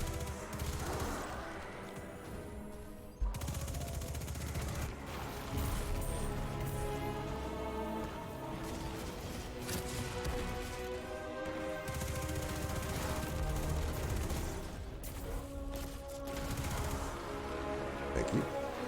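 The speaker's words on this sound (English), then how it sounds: "I love this SMG." SMG fire in Destiny 2 rattles in dense sustained bursts, mixed with game effects and music, with a brief break in the firing partway through.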